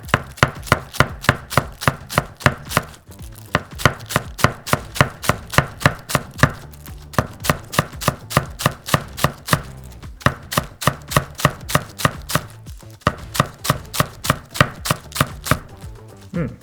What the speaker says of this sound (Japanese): これ切っていきます。 2個ぐらい重ねますね。